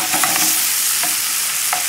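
Garlic sizzles in a pan alongside turkey cutlets, a loud, close hiss with a few sharp stirring scrapes breaking through the steady frying noise.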